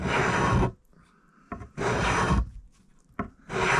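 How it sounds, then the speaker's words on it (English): A rasp files a scalloped Stratocaster guitar neck in three long, coarse wooden strokes with short pauses between them, close and loud with no talking. "my first time using a rasp"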